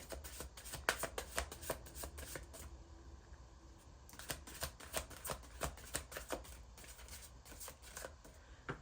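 Deck of oracle cards being shuffled by hand, quiet rapid riffling clicks in two bursts separated by a brief softer pause, close and faint with no talk.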